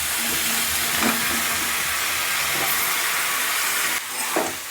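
Foraged wild mushrooms frying in a pan while being stirred give a loud, steady sizzling hiss, broken by a few faint scraping sounds from stirring.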